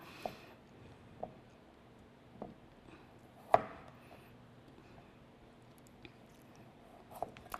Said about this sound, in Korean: 당근을 먼저 채를 썰어 보도록 하겠습니다